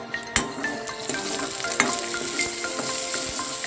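Peanuts roast in hot oil in a pan for a Sambalpuri idli chutney, giving a steady close sizzle punctuated by sharp clinks and scrapes of stirring.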